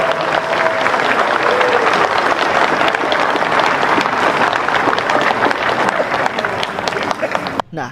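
Loud, dense applause from a large audience for Prabowo Subianto, president-elect of Indonesia, at a formal event, sustained clapping and crowd noise for several seconds before cutting off abruptly.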